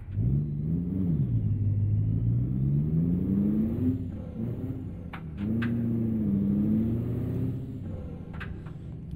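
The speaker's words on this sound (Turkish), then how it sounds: "V8 bir motor vardı, onu seçtim." A V8 engine on a Russian-built truck hauling hay bales in Euro Truck Simulator 2 rumbles deep and steady, rising and falling through two revving swells with brief gaps between, loud and close.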